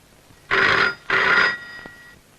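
A telephone rings twice on a call to a police station, with two bright electronic trills of about half a second each, separated by a short gap, heard clearly against a quiet background.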